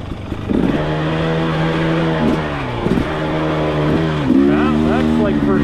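A 2023 KTM TX300 two-stroke dirt bike engine in first gear on a night trail ride, droning and revving in steady rising pulls with gear-like pitch steps, loud and close.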